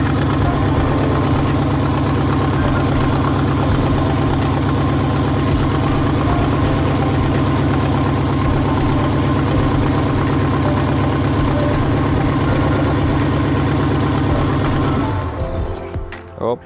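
A vehicle engine idles loudly and steadily with its battery disconnected and a faulty alternator, then stumbles and cuts out near the end.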